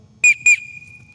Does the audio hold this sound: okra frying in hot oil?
no